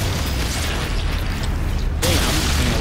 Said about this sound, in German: I'm just seeing a lot of explosions.